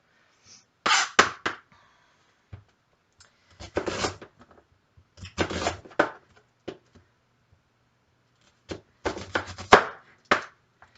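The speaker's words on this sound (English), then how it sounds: "you guys don't need to see me just constantly chopping everything up" Onions and mushrooms rough-chopped for Hungarian mushroom soup, a knife striking a board in irregular clusters of quick, crisp taps separated by pauses, close and fairly loud.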